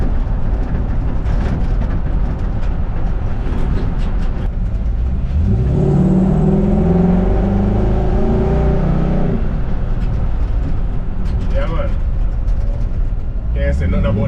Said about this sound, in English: Big V8 Mustang 5-liter beast, fully tuned up.